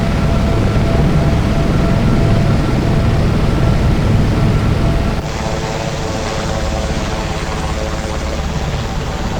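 A Sikorsky Sea King SH-3 helicopter flies in the X-Plane flight simulator, its loud continuous rotor and turbine drone filling the whole stretch. Partway through the tone shifts to a slightly thinner, steadier roar.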